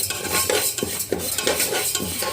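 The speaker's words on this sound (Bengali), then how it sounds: "মুগ ডাল ভেজে নিচ্ছি" Mung dal dry-roasting in a pot without oil, stirred steadily with a utensil: rhythmic scraping and rattling of grains against metal, close and continuous, with a faint hiss underneath.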